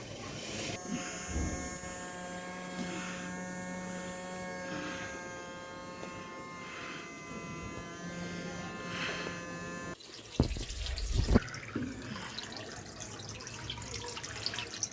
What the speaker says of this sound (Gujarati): આપણી મોટર કંઈક આવી થાય છે.